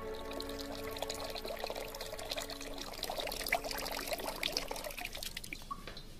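Water flows steadily into an ancient Egyptian water clock, the clepsydra, as a smooth continuous pouring and trickling that holds an even level throughout, with no voices.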